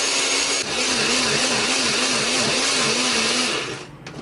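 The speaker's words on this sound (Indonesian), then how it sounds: "Kemudian kita akan haluskan menggunakan blender, beri sedikit minyak atau air supaya lebih gampang menghaluskannya ya." A kitchen blender grinds garlic with a little oil, a loud steady whirring motor drone with a wobbling pitch that runs continuously before easing off near the end.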